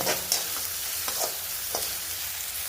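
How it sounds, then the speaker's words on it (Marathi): Finely chopped onion sautéing in a pan for bhindi do pyaza, a continuous moderate sizzle punctuated by several light stirring clicks and scrapes, with no voices. "इथे मी बारीक चिरलेला कांदा व्यवस्थित परतून घेतली"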